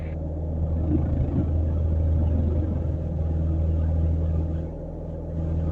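A light training aircraft's engine drones steadily at full power during a night takeoff roll at Lanseria International, a low, even rumble that holds for several seconds with a slight dip near the end.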